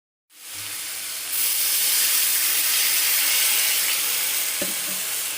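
Potatoes frying with chopped onion, green chilli and garlic hiss and sizzle loudly in a pan as they are stirred, the steady frying noise swelling after a moment, with a few faint utensil clinks near the end.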